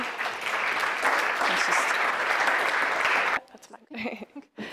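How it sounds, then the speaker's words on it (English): An audience at a morning conference session breaks into a dense burst of clapping that lasts a few seconds, then stops abruptly and a voice begins speaking. "So give an applause to Marlene Mehlstäubler."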